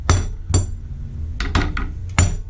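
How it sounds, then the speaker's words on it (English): Metal wrenches are lifted on and off sturdy wall-mounted tool brackets, giving a handful of sharp, bright metallic clanks and clinks in an uneven rhythm, close up with no talking. "You can take the wrenches on and off with ease."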